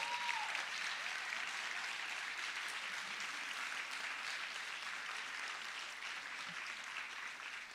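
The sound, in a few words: applause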